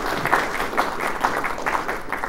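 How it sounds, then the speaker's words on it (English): Audience applause at a retro gaming preservation panel, a steady wash of clapping from a crowd lasting a couple of seconds with no speech over it. "a round of applause to Risha for that"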